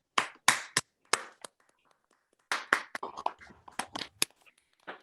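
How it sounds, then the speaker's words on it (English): Scattered claps from a few online meeting participants, sparse and uneven bursts with gaps, fairly faint, no voices. "we'll give everybody a clap and a round of applause to our speakers."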